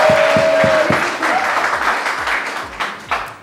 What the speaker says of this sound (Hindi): इनके लिए बहुत सारी तालियां